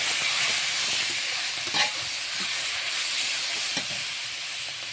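Boiled ash gourd greens go into a pan of fried onion and garlic and cook with a steady close sizzle and hiss, with a few brief stirring scrapes near the middle and toward the end.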